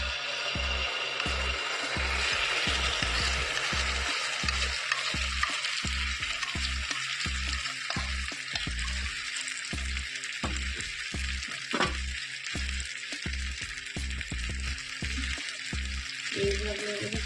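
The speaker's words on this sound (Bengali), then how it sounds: "তো এবার ব্যাটারটা আমি এখানে এইভাবে দিয়ে নেব।" Batter sizzling steadily in a frying pan for a simple breakfast recipe, a continuous hiss with rhythmic clicking and scraping from a utensil spreading it around, close and moderately loud.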